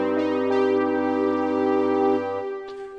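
Orchestral suite from the Borderlands 1 and Shift 1 score: a sustained, harmonically rich chord with a deep bass drone that holds, then thins out near the end as the low notes drop away.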